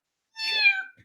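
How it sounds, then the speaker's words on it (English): A single cat lets out one short, close, clear meow, a brief rising and falling yowl in otherwise quiet surroundings. "Cat fight."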